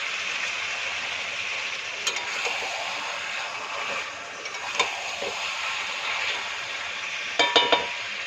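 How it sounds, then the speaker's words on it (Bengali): Chicken curry with fried potatoes sautés in a pan, a steady low sizzle running throughout, with occasional scrapes and clinks from a stirring utensil and a quick cluster of metallic taps near the end, close and moderate. "আলুটা দিয়ে ভালো করে কষিয়ে দিয়ে ঢেকে রাখবো।"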